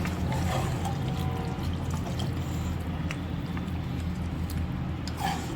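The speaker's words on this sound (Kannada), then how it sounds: "ಇನ್ನೊಂದು ಸ್ವಲ್ಪ ನೀರು ಹಾಕ್ಬಿಡ." Water is poured into a pot of boiling chicken curry, giving a soft continuous pouring and bubbling sound at moderate distance, with faint clinks and no talk.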